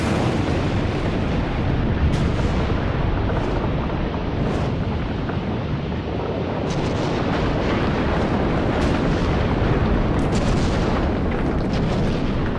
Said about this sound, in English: Krakatoa erupted.